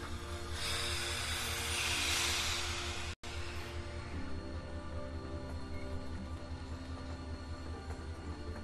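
A vehicle engine in The Walking Dead game roars up as the throttle opens, a loud broad rush peaking in the first three seconds, cutting out briefly, then settling into a steady droning hum.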